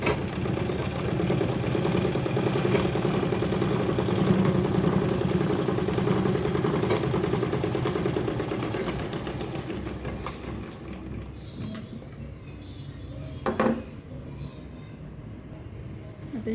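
A sewing machine runs continuously, stitching a two-pocket bag, with a steady mechanical drone that eases slightly toward the end and a brief sharper clack near the close.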